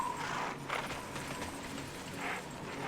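A horse gallops in the Tera online role-playing game, a steady rapid clip-clop of hooves under a dense wash of game music and ambience, continuous and moderately loud throughout.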